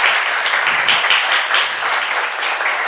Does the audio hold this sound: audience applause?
yes